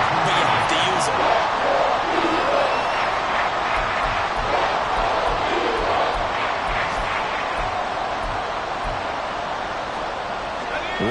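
A roaring stadium crowd fills a Madden 24 football game on a third-and-goal play, a steady dense wash of cheering that runs throughout beneath continuous play-by-play commentary.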